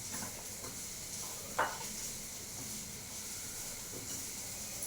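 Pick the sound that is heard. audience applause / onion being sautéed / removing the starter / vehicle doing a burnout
onion being sautéed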